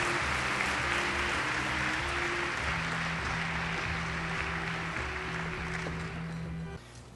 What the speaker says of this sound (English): Please, let's give them all a big round of applause and thank them for all they've done